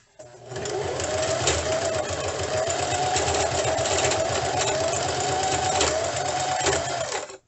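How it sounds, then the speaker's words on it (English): A sewing machine running a quarter-inch seam along the top of fabric card bags, a steady close rapid mechanical whir and clatter that keeps going for several seconds before stopping. "we are going to sew with a 1/4 inch inseam along the top for both"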